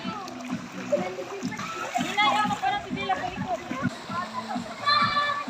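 Water being thrown and splashing at a Philippine resort, with bursts of splatter between lively children's voices and adult talk, close by and fairly loud.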